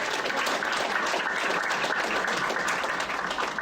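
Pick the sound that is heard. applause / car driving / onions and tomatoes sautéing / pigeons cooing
applause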